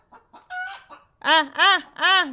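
A chicken clucks close by, a few short soft calls followed by three loud, drawn-out squawks in a row.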